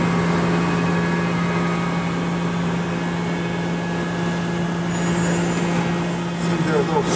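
A Mazak CNC machine cuts a flintlock tumbler shaft with a finish tool, giving a steady, continuous machining hum with sustained tonal whine and broadband noise at an even level throughout.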